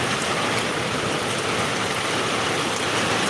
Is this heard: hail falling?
yes